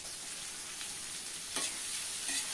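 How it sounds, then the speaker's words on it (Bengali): Potato pieces fry in salted hot oil for a khichuri meal, a continuous close sizzle with brief louder crackles as they are stirred. "আলুগুলো একটু ভাজা হলেই এবার দেব পটল"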